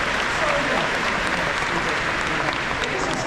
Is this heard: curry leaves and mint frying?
no